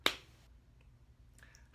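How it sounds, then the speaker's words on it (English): One sharp, close hand clap marks a single eighth note in a dulcimer rhythm count. It rings briefly in a quiet room, and a faint higher tone follows. "We're going to give it 1 clap by itself"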